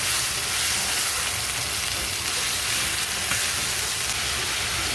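Meat for Lao khua mee fries in a pan, mixed with garlic powder, giving a loud, continuous close sizzle with faint stirring underneath and no voices.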